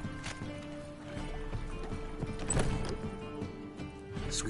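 Roach, the horse in The Witcher 3: Wild Hunt, gallops with quick repeated hoof clops amid game ambience, with a brief whinny-like sound.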